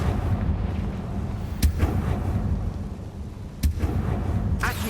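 Confringo spell blasts in Hogwarts Legacy, two sharp booming impacts a couple of seconds apart over a low rumbling battle backdrop.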